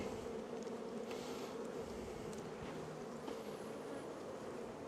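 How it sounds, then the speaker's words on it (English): Honey bees buzz steadily around an apiary on a hot, sunny day during a hive inspection, a dense, even drone of many insects with occasional closer individual bees passing by. "The bees are out, like half the bees are out foraging"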